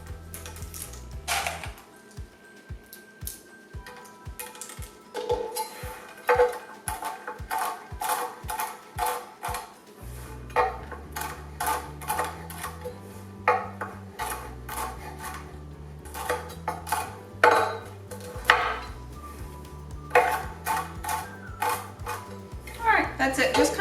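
A knife chops mushrooms on a cutting board for a quinoa dish with quick, irregular clusters of sharp taps, set against a steady rhythmic musical backing.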